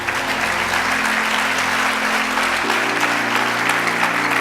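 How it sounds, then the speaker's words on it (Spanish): Loud, dense applause fills a church congregation, steady and close throughout with a sustained organ or keyboard chord beneath it. "Dele un aplauso al Rey"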